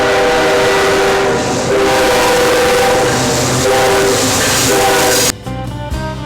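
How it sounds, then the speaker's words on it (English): A loud train rumbles close by in Afton Canyon in the Mojave Desert while its horn blares in long sustained blasts, the horn cutting off abruptly near the end as the rumble continues. "Trains continue south through Barstow."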